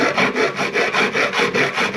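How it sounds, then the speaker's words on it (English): A big hand file rasps across metal edges in steady back-and-forth strokes, about eight even, loud, close passes with no talking, while shaping a part for a Rotrex-supercharged Arden 8-port Classic Mini. "use a big file to get all the big edges off, and then work into these corners with the round file"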